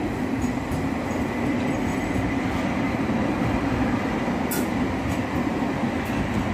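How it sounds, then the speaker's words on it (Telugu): A local commuter train in central Stockholm rumbles past close by, a loud continuous roar of wheels on rails with faint high squeals and clicks, no voices. "స్టాక్ హోమ్లో లోకల్ ట్రైన్."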